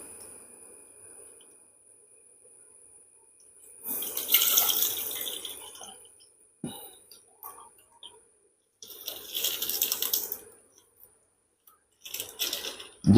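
Milk poured into a wok for cooking semolina, heard as two splashing, trickling bursts with brief clinks between and a little faint background noise, no talking.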